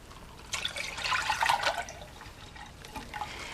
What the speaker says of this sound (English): if you pour the water back into the saucepan